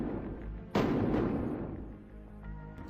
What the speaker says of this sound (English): gunshots.